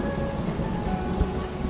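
Heavy rain pours steadily in a dense, loud, continuous wash with a low rumble underneath, and no voices are heard.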